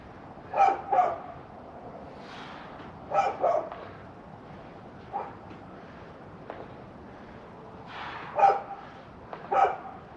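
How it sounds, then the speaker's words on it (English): Several dogs bark from a neighbor's balcony, short bursts of two or three barks at a moderate distance separated by quiet gaps. "My neighbor's dogs up on the balcony barking at me, telling me to go faster"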